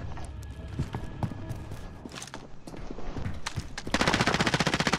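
Rapid automatic gunfire from a Warzone match, crackling bursts and scattered single shots at mid distance that swell into a loud, continuous close-range rattle near the end.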